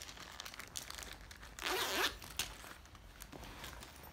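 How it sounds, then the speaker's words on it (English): A single quick pull of a backpack's front zipper, a short raspy burst near the mic, surrounded by faint handling rustles. "Let me open the front zipper."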